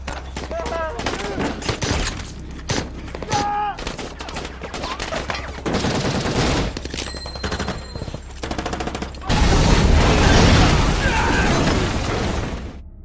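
Heavy gunfire and explosions from a war film battle in which a SWAT team is surrounded by ISIS fighters, with dense bursts and booms throughout and a louder, sustained barrage near the end, under narration and shouting voices.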